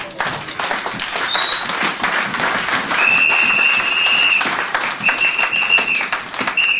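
A church congregation applauds to acclaim the Lord, sustained lively clapping throughout, with whistles and shouts rising over the applause.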